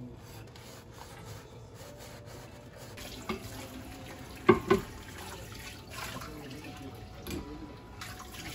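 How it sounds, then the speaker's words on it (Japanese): Dishes washed under a running kitchen tap after a home-cooked Japanese simmered fish meal, a steady faint stream of water with soft rubbing and a few brief clinks of crockery partway through. "今日も綺麗に洗った"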